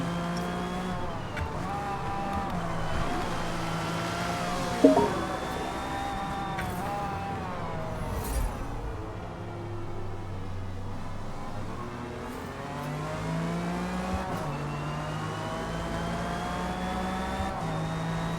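A Mazda RX-7 with a rotary engine racing in Forza Motorsport, its engine note rising and falling through gear changes over a continuous drone with occasional tire squeal.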